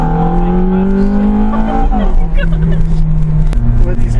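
A Ferrari engine hums with a rising whine as it revs, drops back and shifts to a lower steady tone, loud and close throughout.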